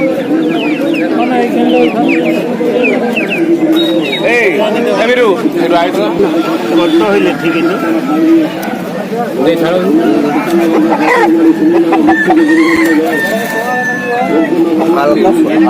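Chickens cluck and chatter loudly and continuously at a busy poultry market, many birds close by, with people talking throughout.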